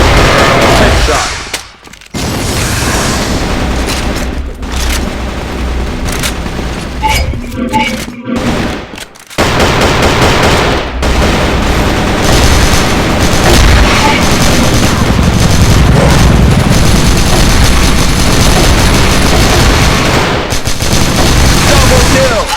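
A KAC ChainSAW machine gun in the video game Crossfire fires loud, sustained automatic bursts almost nonstop, broken by a couple of brief pauses, with game sounds and occasional voice callouts around it.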